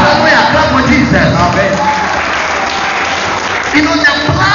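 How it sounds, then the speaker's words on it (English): A church congregation claps and cheers for Jesus during a sermon, a loud, continuous crowd roar of applause throughout, with voices mixed in. "Clap for Jesus"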